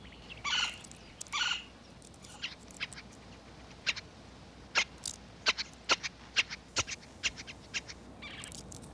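A golden-fronted woodpecker in Texas gives a series of sharp, loud calls, a couple of harsher bursts early and then quick scattered chips and squeaks over a quiet outdoor background.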